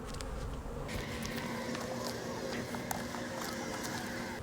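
Honeybees buzz in a dense, continuous swarm from an opened beehive during late-season hive work, close and steady, with small knocks and rustles of handling throughout.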